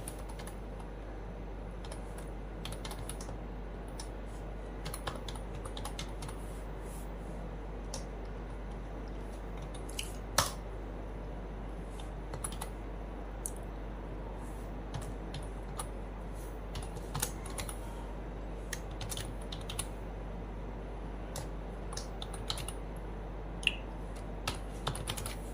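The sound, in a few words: typing on a computer keyboard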